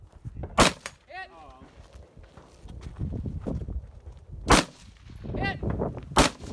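Gunshots ring out at a 3-gun match stage: three sharp, loud cracks spaced a few seconds apart, with a shout heard between them against a background of outdoor range noise.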